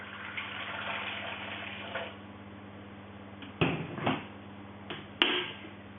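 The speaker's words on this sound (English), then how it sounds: "I am going to add 190 grams of water." Water pours into a stainless steel bowl sitting on digital scales while measuring out water for liquid soap-making: a soft steady trickle, then a couple of sharper splashes and light metallic knocks, close and fairly quiet.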